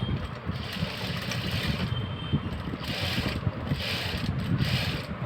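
Domestic sewing machine running a double line of stitches on a designer blouse, a steady close mechanical whir with rapid needle chatter that holds throughout without pause.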